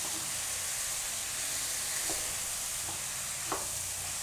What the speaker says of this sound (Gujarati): વચ્ચે વચ્ચે હલાવી લઈશું.